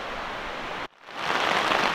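Rain patters steadily on tarps at a wet hiking campsite, a soft even hiss that cuts out for a brief moment and then returns slightly stronger.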